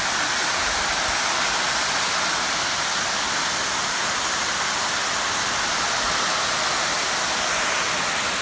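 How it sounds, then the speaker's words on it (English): A waterfall pours into a cold pool on a hiking trail, a dense, continuous hissing roar that stays steady and loud from start to finish. "It's a pretty amazing waterfall."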